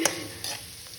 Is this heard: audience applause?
no